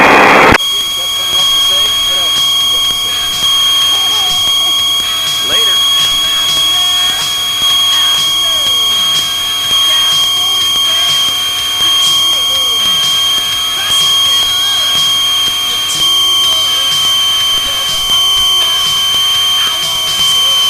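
Cessna 182 engine on landing approach to Gulf Coast Regional in Texas, a steady loud drone with a high whine running unbroken throughout, radio talk faintly under it.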